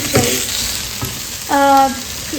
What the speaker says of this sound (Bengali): তো এটা ভাজছি এখন আরো আলু আছে হুম ফ্রেঞ্চ ফ্রাই